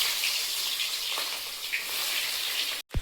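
Chicken and onion fry for a biryani in a constant, close hiss of sizzling oil that cuts out abruptly for a moment near the end.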